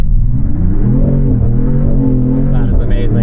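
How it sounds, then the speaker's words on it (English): A 2026 Dodge Charger Sixpack Scat Pack engine revs hard during a rear-wheel-drive burnout and holds at high pitch, loud and close, with the whine wavering and a tire screech creeping in near the end. "allows us to do a burnout in rear wheel drive mode"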